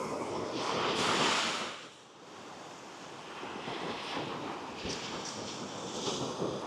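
Ocean waves breaking along the shore near a lighthouse, a broad roar of surf that swells and eases over several seconds, mixed with gusty wind buffeting the microphone, no voices.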